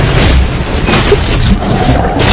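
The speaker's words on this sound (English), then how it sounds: "Destroyed a turret!" A turret being destroyed in the Mobile Legends: Bang Bang mobile game gives a loud, dense booming blast that fills the whole short stretch without letup, with no voices over it.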